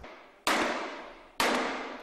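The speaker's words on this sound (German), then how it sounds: "Erst nach einigen heftigen Hammerschlägen zerspringt das Glas." A hammer strikes the laminated safety glass of a manual glass sunroof twice, each a loud, sharp crack about a second apart, followed by a long, fading rattle of the glass.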